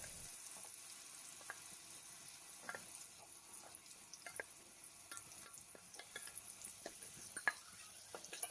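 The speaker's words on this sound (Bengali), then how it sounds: "এবার এই তেলের ভিতরে আমি লবণ হলুদ মাখানো বেগুনগুলোকে দিয়ে দিচ্ছি। বেগুনগুলোকেও প্রথমে ভেজে তুলে নেব।" Eggplant pieces rubbed with salt and turmeric fry in oil with a soft, continuous sizzle and light pops, fairly faint and with no speech.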